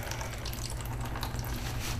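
Water squeezed out of grated cauliflower for a pizza crust, a steady close trickling and splashing of liquid that runs continuously, with no talking.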